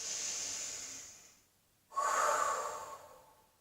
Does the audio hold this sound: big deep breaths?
yes